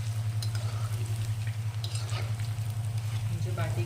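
Baati dumplings fry in hot oil over a high flame, a constant loud sizzle with a low steady hum beneath and occasional bubbling pops, up close and uninterrupted.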